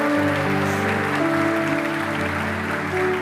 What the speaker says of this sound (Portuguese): Você pode aplaudir nossos artistas aqui,